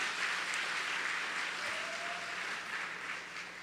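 An audience at an evening birthday concert program claps in a steady, even round of applause that holds for several seconds before easing slightly.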